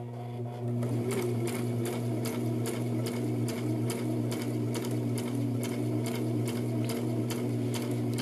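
A sewing machine stitches a fabric seam with a steady, close mechanical whir and a fast, even needle tick running throughout. No one speaks.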